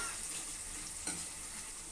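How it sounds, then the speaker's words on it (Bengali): Chopped curry leaves fry in a pan over high gas, a steady broadband hiss of sizzling oil with one brief stir or clink near the middle, alone and without talk. "কারি পাতা কুচানো, দিয়ে এটাকে আমি আগে একটু ফ্রাই করে নেবো"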